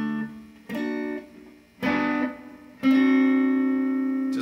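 A guitar plays the chord from a song, fingered with a pinky stretch. Four strums ring out up close, each one sustaining, the last held longest, with no talking.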